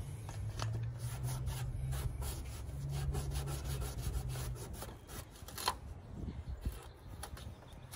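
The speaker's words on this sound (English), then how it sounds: "I'll take some alcohol and a microfiber cloth, and I want to clean that area really well" Steady rubbing and wiping of a microfiber cloth dampened with alcohol across a vehicle surface, a continuous close-up scrubbing with a few sharper strokes, no voices.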